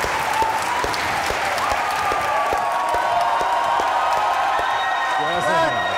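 Studio audience at a Pakistani comedy talk show applauds and cheers in a steady, dense burst of clapping with scattered whoops, loud and sustained throughout.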